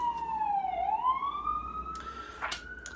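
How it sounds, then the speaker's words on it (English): A New York ambulance siren wails, sweeping down then rising in pitch, loud and close, with a sharp burst of noise near the end. "New York ambulances."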